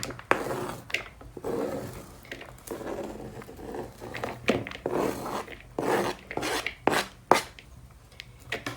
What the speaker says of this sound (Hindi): सबसे पहले ये सारे के सारे प्याज डाल देंगे